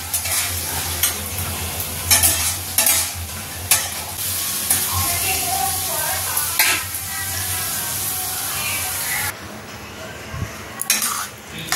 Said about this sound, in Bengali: দেখো মশলাটা কষিয়ে আর তরকাটা দিয়ে দিয়েছি।